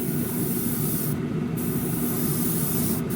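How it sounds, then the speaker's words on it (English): Water-based paint hisses from a spray gun in a steady, continuous stream for masking model car windows, a close, even airy rush with no breaks. "I also try to spray straight on."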